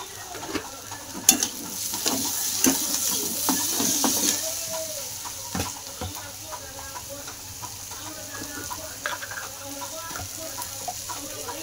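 Potatoes being fried in a pan for batata puri, a soft steady sizzle with scattered clicks of stirring and faint voices in the background of a home kitchen.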